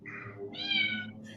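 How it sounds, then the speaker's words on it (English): A stray cat gives two short, fairly faint meows close by, the second one higher and more drawn out, with no talking over them. "and I got a stray cat"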